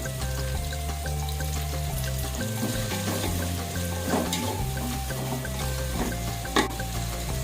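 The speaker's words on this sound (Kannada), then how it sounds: "ಚೆನ್ನಾಗಿ ಗೋಲ್ಡ್ ಕಲರ್ ಬರಬೇಕು ಈರುಳ್ಳಿ ಬೇಯಕ್ಕೆ ತುಂಬಾ ಟೈಮ್ ಹಿಡಿಯುತ್ತೆ" Onions frying in a pan for chicken biryani sizzle loudly and continuously, with stirring scrapes and clatter mixed in and a steady background hum underneath.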